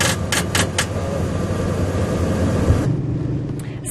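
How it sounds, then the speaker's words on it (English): A car stalled in floodwater on a flooded road, with crews trying to jump-start it; a steady mid-pitched engine rumble with a few short bursts near the start, ending abruptly, with no talk. "Sound there of crews trying to jumpstart a car after it was stalled in floodwater along Myrtle Ridge Road"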